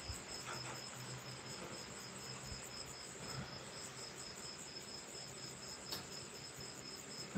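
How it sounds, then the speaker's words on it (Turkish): Insects chirp outdoors, crickets or cicadas, a steady high-pitched trilling that runs unbroken throughout, faint and slightly distant, with no voices and only light rustles underneath. "Ağustos böceği mi, Eylül böceği mi, onu da bilmiyorum."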